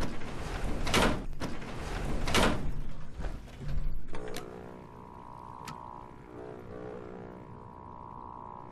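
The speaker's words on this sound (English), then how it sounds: "Can I close this door?" A door closing in Fallout 76, a heavy grinding slide followed by a low resonant mechanical hum that lingers, moderately loud.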